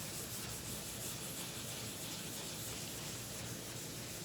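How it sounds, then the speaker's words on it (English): Car paint on a 1973 Toyota Celica under restoration is wet sanded by hand with 400 grit sandpaper, producing a steady, fairly faint, continuous rubbing hiss close by, without pauses or talking. "Got the 400 grit wet sand done"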